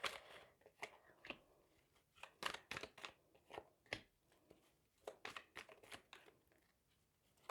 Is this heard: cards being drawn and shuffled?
yes